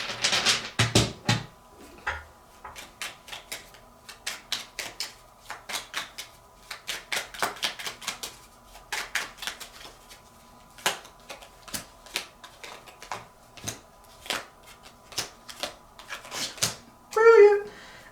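Tarot cards being shuffled and drawn, with repeated quick flicking and slapping card sounds in irregular bursts, while a person talks throughout.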